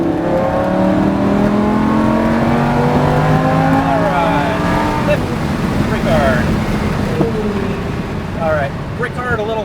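Lamborghini engine on a race track revving up and down through the gears as throttle is rolled on, loud and continuous with rising harmonic sweeps, while a voice speaks over it.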